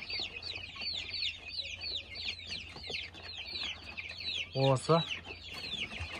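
Kuchinsky Jubilee chicks about a month old cheeping in a rapid, continuous stream of high chirps, with a louder clucking burst near the end and a brief spoken word underneath.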